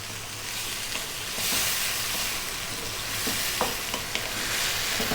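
Tomatoes sizzle steadily in a pan over high heat while being stirred, a broad frying hiss with occasional scraping clicks from the utensil, close and continuous with no voices.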